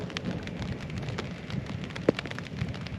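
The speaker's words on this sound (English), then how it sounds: "I'm listening to the rain come down." Rain patters steadily onto a surface at a rainy campsite at night, dense and close with scattered louder drops and one sharp tap standing out, no voices over it.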